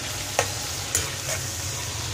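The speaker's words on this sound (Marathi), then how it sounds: "आपण याच्यामध्ये हे काजू ॲड करायचे आहेत काजू पण थोडे फ्राय करायचे" Cashews fry in a pan with a steady crackling sizzle throughout, broken by three brief stir clinks near the start, middle and later; no one speaks.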